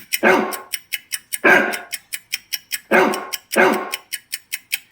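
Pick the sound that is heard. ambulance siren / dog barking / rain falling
dog barking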